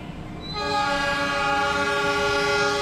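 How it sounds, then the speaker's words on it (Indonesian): The Jayabaya stainless new-generation train pulls out of Karawang station, its horn sounding a loud, sustained blast that holds steady for a couple of seconds over the rumble of the rail cars. "kereta api Jayabaya diberangkatkan kembali dari stasiun Karawang nih teman-teman"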